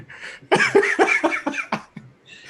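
A harsh fit of coughing, several rough bursts in quick succession, close and loud, trailing off into breathy sounds.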